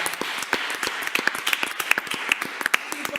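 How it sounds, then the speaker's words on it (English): Clapping from a small crowd at a school committee meeting in honor of student athletes: a dense patter of many hands with sharper individual claps, steady and moderately close for a few seconds. "We applaud all of our student athletes."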